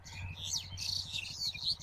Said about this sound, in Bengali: শালিকের কিচিরমিচির শব্দ